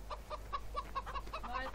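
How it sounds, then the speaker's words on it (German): A chicken in the video game Farming Simulator 2013 clucks in quick repeated bursts, about eight short clucks in a steady rhythm over a low hum. "Ein Huhn."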